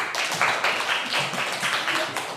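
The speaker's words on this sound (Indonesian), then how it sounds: "Kasih tepuk tangan buat Putri" Students in a classroom clap together in a short, fairly close burst lasting a couple of seconds, with individual claps audible within the group.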